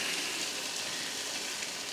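Eggs hit a hot frying pan of thick tomato masala for egg bhurji, giving a steady, close, even sizzle with a faint crackle throughout and no voices.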